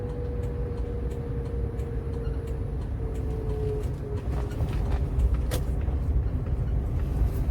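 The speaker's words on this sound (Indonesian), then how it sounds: "situasi suasana di area Bandara Sultan Mahmud Badarudin II, tepatnya di kota Palembang" Steady road traffic around Sultan Mahmud Badaruddin II Airport in Palembang, a continuous low rumble of passing cars with a faint engine drone throughout and no talking.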